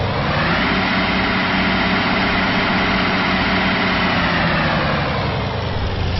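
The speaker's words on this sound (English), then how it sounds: "let's go ahead and speed up the diesel. See the RPM climbing." A U-boat diesel engine in a simulator game drones steadily and loudly, a dense continuous rumble that rises slightly in pitch as it speeds up, with no other sounds.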